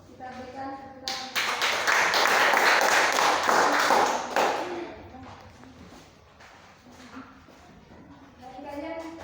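Classroom applause for student presenters, a burst of many hands clapping that rises sharply, holds for a few seconds, then fades into scattered taps and quiet talking.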